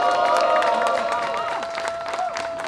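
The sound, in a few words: audience applauding and cheering at memorial ceremony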